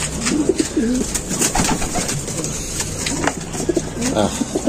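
Racing pigeons coo repeatedly in a loft, soft throaty rolling calls close by, layered with wing flutters and faint background chatter.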